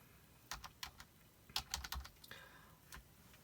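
Fingers tap a computer keyboard in short irregular bursts of crisp clicks, with brief pauses between clusters, close and moderately loud with no voices.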